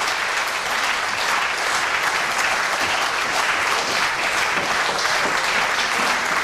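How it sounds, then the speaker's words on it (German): A concert audience at an electronic music festival keeps clapping in a steady, dense wash of applause, loud and continuous throughout. "Euer Applaus."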